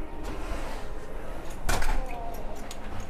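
A cabin door aboard the Symphony of the Seas cruise ship is handled with one short knock-like impact midway, heard close in a quiet room over steady background hiss.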